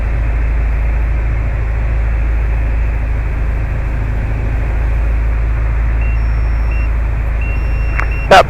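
A few short, thin electronic beeps from an aircraft traffic alert system sound near the end, above a loud, steady motor glider engine drone that fills the whole clip.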